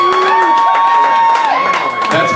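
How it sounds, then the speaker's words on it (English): A comedy club audience breaks into brief, dense clapping and cheering during a stand-up set, loud and close, with voices in the crowd. "That's more than anyone has clapped for Tom all night"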